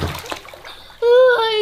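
A child jumps into a small inflatable pool on a home balcony, making a quick watery splash and slosh, followed by a loud, sustained high voice.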